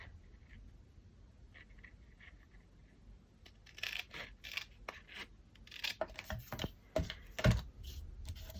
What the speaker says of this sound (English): I'm going to use my scissors to cut